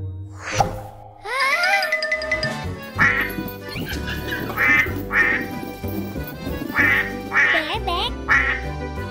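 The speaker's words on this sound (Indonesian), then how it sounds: "Bebek." Cartoon duck quacks in a children's show, several bright nasal calls repeated rhythmically over music with chimes and jingles, loud and close.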